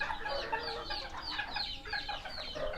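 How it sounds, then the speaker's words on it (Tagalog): Serama bantam chickens cluck and chatter continuously in small pens, a dense layer of overlapping bird calls held at a steady, moderately close level with no talk. "Yan, pakita mo yung mga pre-range."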